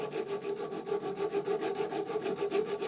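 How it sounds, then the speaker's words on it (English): A hand file rasps back and forth, rounding the ends of a connecting rod for a small Stuart half-beam steam engine. Steady, even strokes repeat at close range, with no voices. "I've decided just to use a hand file to round these ends off."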